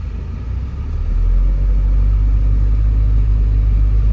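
A 1992 Porsche 968 Cabriolet pulls away on the road, its engine a deep steady rumble that swells after the first second and holds a low, even drone from inside the car.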